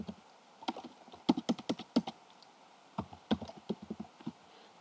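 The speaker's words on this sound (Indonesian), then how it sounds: "Lalu kita ketik aja DHT22." Typing on a computer keyboard while entering a DHT22 sensor into an online circuit simulator: two quick bursts of crisp, close key clicks with a short pause between them, no voices.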